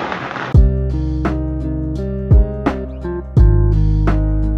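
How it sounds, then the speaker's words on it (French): Firecrackers bang out alongside a brass band: sharp explosive cracks mark the opening and then burst through sustained horn chords at irregular intervals, loud and close. "ça fait péter des pétards avec une fanfare"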